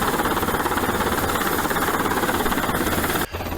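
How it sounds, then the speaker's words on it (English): An Irish Coast Guard helicopter hovers close by a sailboat off Waterford during a hi-line exercise, its loud rapid rotor thudding and engine roar pulsing steadily, dipping briefly near the end. "The helicopter will hover just off the port quarter."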